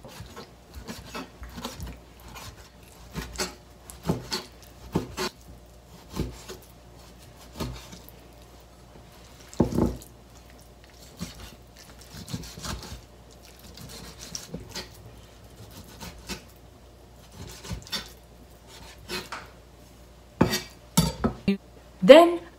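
A knife chopping fish into small pieces on a cutting board, with irregular taps and scrapes, some sharp and close, spread across a quiet kitchen.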